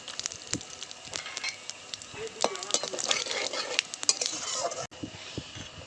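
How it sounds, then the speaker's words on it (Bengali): Whole cumin, bay leaves, black cardamom and cinnamon sizzle and crackle in hot oil in a pan for a chicken curry, with steady spitting pops and occasional stirring clatter close by. "ফোড়নে দিয়ে দেব গোটা জিরে দুটো তেজপাতা আর বড় এলাচ আর দারচিনি"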